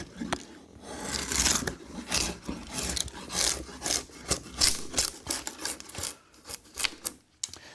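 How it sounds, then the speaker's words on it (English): A drawknife, used bevel down, shaves the corners off a wooden board for a fireside bench, giving a run of close, rhythmic rasping strokes, each a short scraping pull with small gaps between. "I'm using a draw knife, and I'm using it bevel down, and I'm just taking off these corners"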